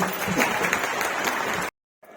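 Audience applause for a speaker at an LCD event in Jinnah Convention Center, Islamabad: dense, steady clapping from a large crowd for under two seconds, then stopping abruptly into silence.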